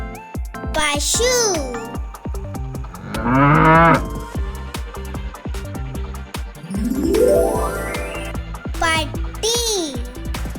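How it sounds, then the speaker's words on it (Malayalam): Cow mooing in a long, low, swelling call with a second bellow later, set against someone speaking and light background music. "പശു"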